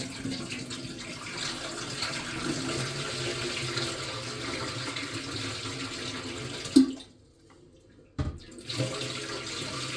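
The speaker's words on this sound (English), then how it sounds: "Now I will remove the water from the tank to see what's inside." Steady rushing water drains and gurgles out of a Quooker kitchen tap water tank, then cuts off abruptly into near silence before a brief splash resumes.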